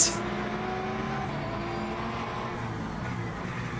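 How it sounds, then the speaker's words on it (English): A Chevrolet Corvette GT3 race car engine in the Le Mans Ultimate racing game hums steadily at speed, a continuous mid-pitched drone with a brief sharp click at the start, no voices. "It was a Corvette, and it sounded magnificent."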